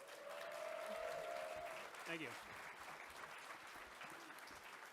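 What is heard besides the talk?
audience applause at a comedy panel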